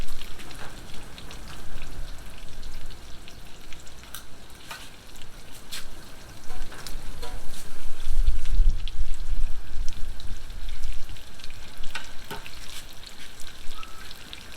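Pork chops sizzle and spit in a cast iron skillet, a steady dense crackle with scattered sharp pops that thickens toward the middle, with no voices.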